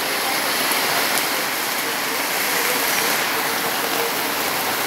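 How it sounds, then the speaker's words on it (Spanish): Heavy rain from a strong storm in El Salvador pours down as a loud, steady, dense roar of water with no break, close and enveloping. "Hoy sí se vino bien fuerte la tormenta."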